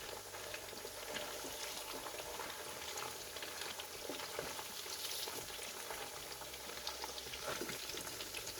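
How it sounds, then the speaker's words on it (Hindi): Meat pieces for gulfam gosht fry in a pan with a soft, steady sizzle and light bubbling that continues evenly throughout without talk. "तो हमने बोटियां डाल दी हैं। इन्हें हम फ्राई करेंगे"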